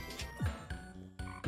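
A frog in the Roblox game Bee Swarm Simulator croaks several times in quick succession, short throaty calls heard close and alone.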